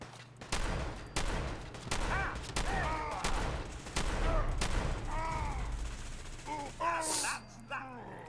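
Rapid bursts of gunfire from the Fallout 4 video game ring out through most of the clip, several sharp shots in irregular clusters, with a person talking between and over them.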